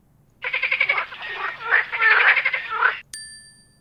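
A cartoonish frog croaks in a rapid, rattling burst lasting a few seconds, loud and clear, followed by a bright bell-like chime in a children's animal-learning game.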